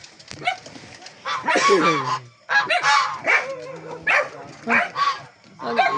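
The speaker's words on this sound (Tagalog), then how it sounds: "Ayan, yung mga gansa. Nandun na." Geese honk repeatedly nearby in loud, nasal bursts, several calls overlapping in an excited, irregular chorus.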